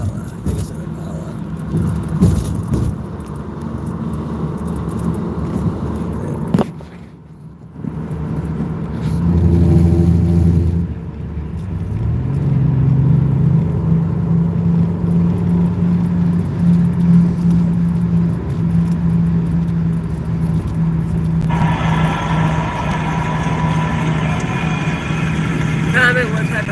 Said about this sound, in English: I think it's an Impala.